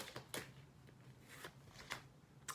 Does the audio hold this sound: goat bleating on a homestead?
no